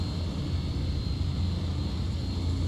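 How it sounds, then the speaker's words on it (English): Steady low droning rumble of an Embraer 120 turboprop airplane on the ground, constant and fairly loud, with a thin whine above it and no voices. "So this is an Embraer 120."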